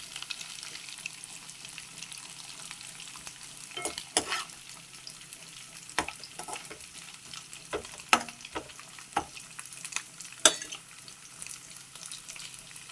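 Dried small fish frying in a pan for a brinjal curry, a steady low sizzle with scattered sharp crackles and pops throughout, plus occasional stirring scrapes.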